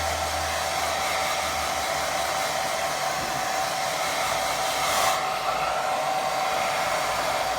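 A hair dryer blows steadily on a wet watercolour painting of a small pond, a continuous loud whooshing hum with a constant tonal whine, running the whole time without any voices.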